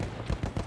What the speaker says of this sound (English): Oh, I can shoot a horse in the face.